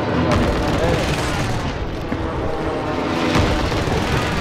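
Gunfire in Call of Duty: Modern Warfare, a dense rattle of shots and booms heard at a distance, continuous and rough over a steady background wash.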